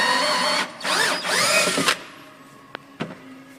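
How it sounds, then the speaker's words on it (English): A unibit step drill bores a hole in a Yamaha golf cart body panel to relocate the choke mount, in three loud whining bursts that rise in pitch, followed by a couple of faint clicks and a quiet hum. "you want to drill a new hole for your choke mount."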